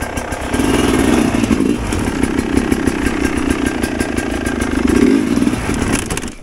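A dirt bike engine climbing a mountain trail revs and labors close by, holding a steady loud drone with throttle surges that swell and fade.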